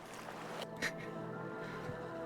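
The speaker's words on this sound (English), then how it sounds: "the waves of the lake gently lapping against the shore?" Gentle waves from a lake lap softly against the shore at an evening summer campsite, a faint, steady wash of water with one slightly louder splash partway through.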